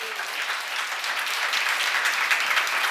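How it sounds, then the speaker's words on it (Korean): An audience at a church seminar applauds, a dense, steady clapping that swells slightly toward the end with no speech over it. "박수 좀 쳐요."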